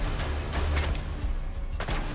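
Gunfire in the Fallout: London video game, several quick sharp shots scattered across a couple of seconds over a low background rumble.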